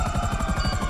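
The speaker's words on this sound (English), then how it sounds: "Is that a helicopter noise?" A helicopter in the video game GTA 5, its rotor giving a fast, steady rhythmic thumping with a buzzing whine, loud and close throughout.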